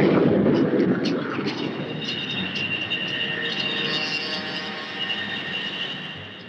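Skyhawk jets launching from the aircraft carrier Melbourne for a combined exercise with the Army produce a loud, steady jet roar that fills the whole stretch without a break.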